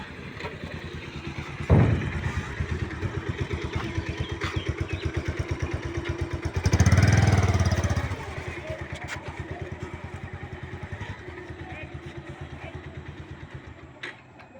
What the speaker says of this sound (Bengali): এই মোটর বাইক উঠতেছে